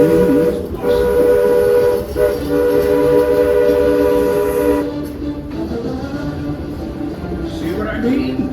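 The Walt Disney World Railroad steam train at the Magic Kingdom gives a steady rumble while a whistle sounds long and loud. The whistle pitch then bends and fades as the train keeps rolling, heard close by.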